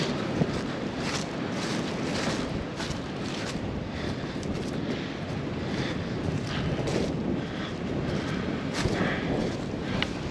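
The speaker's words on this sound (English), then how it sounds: "That wind is absolutely howling like a mother" Strong wind roars and buffets the microphone without a break beside a creek line and open pasture, a dense, loud rush with gusty swells throughout and no talking.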